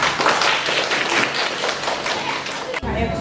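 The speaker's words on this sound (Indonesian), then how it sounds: "Silakan maju ke depan, kita beri tepuk tangan." Classroom audience claps for a student group called up to present during a school coaching session, brisk dense clapping with voices over it before it stops abruptly.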